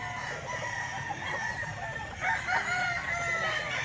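A small gamefowl stag crows at a cockfighting pit market, with clucking fowl and a steady crowd murmur behind it and a couple of louder crow bursts toward the end.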